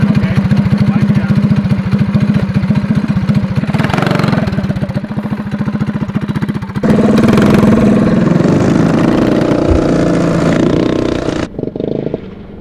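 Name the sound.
six-wheeled Tyrrell F1 replica go-kart engine running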